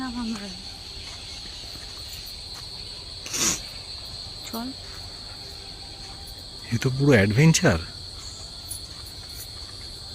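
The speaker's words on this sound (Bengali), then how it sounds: "ঝিঝি পোকা ডাকছে।" Crickets chirp in a steady high-pitched drone throughout a forest path to the beach at Dublagari, with a person briefly speaking over it and a few rustling footsteps.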